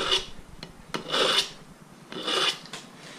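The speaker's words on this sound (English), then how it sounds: "sharpen your knife, of course." A knife sharpened before filleting whiting, several rough rasping strokes along the blade in an uneven rhythm, close and clear with no speech.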